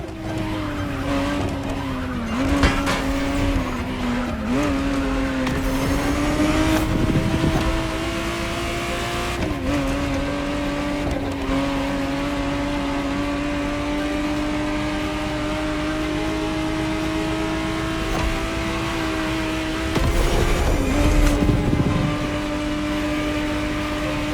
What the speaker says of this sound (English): the exact model MotorFest has put in your hands is the 1991 re-engineered version of the Testarossa, introduced as the 512 TR